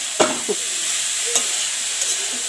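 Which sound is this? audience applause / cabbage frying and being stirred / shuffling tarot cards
cabbage frying and being stirred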